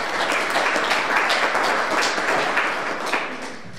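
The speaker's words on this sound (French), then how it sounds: "Je pense qu'on peut les applaudir." Congregation applauding in a church during a Mass, steady moderate clapping from many people that gradually thins toward the end.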